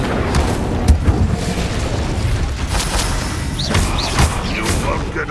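Incendio fire spell blasts in Hogwarts Legacy during a battle arena fight, several booming bursts and thuds over a busy combat din, loud and punchy.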